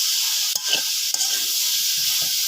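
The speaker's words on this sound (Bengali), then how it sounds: "ভাজা গেটাটা আমি একটু নাড়াচাড়া দিই এদিকে হালকা করে একটু নাড়াচাড়া দিয়ে দিই" Vegetables fry in a pan over a clay stove, giving a steady bright sizzle with several soft scrapes of stirring scattered through it. There is no talk.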